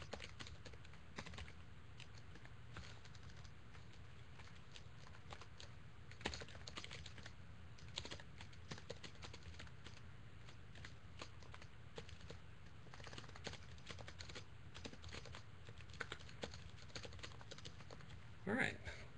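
Rapid, uneven typing on a computer keyboard during C# programming, with quiet clicks scattered across a long stretch and a slightly louder burst near the end; faint room noise beneath.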